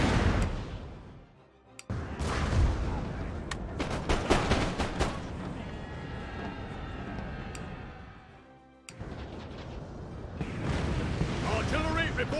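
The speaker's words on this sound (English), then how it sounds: "Artillery reporting. Oh, look at that. Crazy amount of canister." Napoleon: Total War battle audio with artillery firing canister shot, heard as repeated sharp booming reports and crackling gunfire over a dense, continuous battlefield din. Talk runs beneath the noise.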